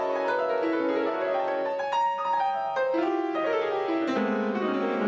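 Freely improvised piano: fast, jagged runs and clustered chords sound in quick, irregular bursts, loud and close, with no voices.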